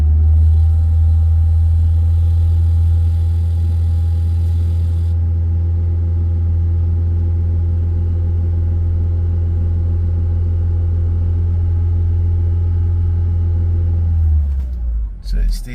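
A Mitsubishi car engine, its oil warning light staying on, holds a loud steady rumble at raised RPM for about fourteen seconds before dropping off abruptly near the end.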